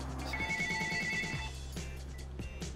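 In a bagel shop, a telephone rings with an electronic warbling tone that repeats, set against busy low background noise.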